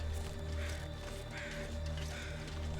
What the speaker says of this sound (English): If I hear crows and they're in a spot I don't normally expect them